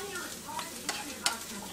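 Eggplant sautés with garlic in a pan for arroz pintado, a quiet steady sizzle under a few soft scrapes and two sharper clinks of a stirring spoon.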